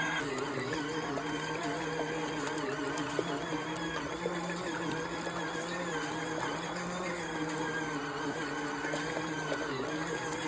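A portable washing machine runs continuously in its spin cycle, giving a steady mechanical whir and hum with constant rattling texture throughout, fairly close and unbroken.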